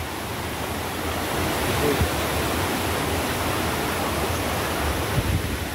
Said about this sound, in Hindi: हे एक पाणी आपल्या खाडीक जाऊन मिळतं.